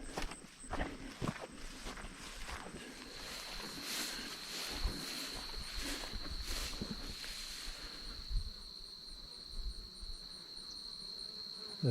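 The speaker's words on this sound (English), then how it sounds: "The bees like the goldenrod" Bees buzz steadily around goldenrod on the North Country Trail in Wisconsin amid outdoor ambience, with a sustained high whine and occasional rustling footsteps.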